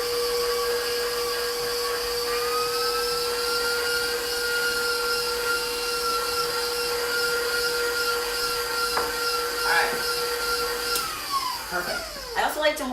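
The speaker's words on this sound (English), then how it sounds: "So I'm gonna mix that really well." A mixer beats low-carb cream cheese chocolate cookie batter with a steady whine that fades and stops near the end.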